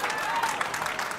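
A short burst of crowd applause and cheering at a bowling championship at Harvard Lanes in Harvard, MA, with a voice speaking over the clapping.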